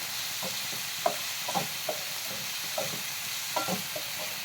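A spoon stirs tomato masala for matar paneer in a pan, with about a dozen scraping strokes in a loose, steady rhythm over a constant low sizzle of frying.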